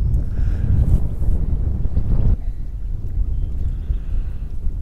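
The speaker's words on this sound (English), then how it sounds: "This wind is just something else." Strong wind buffets a fishing boat out on the water, a loud, steady roar of gusting air across the microphone that eases slightly partway through, with no voices.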